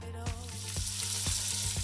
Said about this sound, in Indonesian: Ayam kampung yang udah dibumbuin ini kita goreng dulu nih, sekitar 8 menitan.